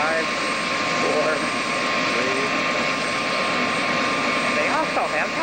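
A helicopter's engine and rotor drone steadily nearby at an outdoor event in Minnesota, with people talking over the sound.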